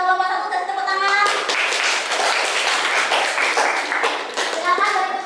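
Classroom applause for a student group, a burst of dense hand clapping from pupils that swells and holds for several seconds, with children's voices around its start and end.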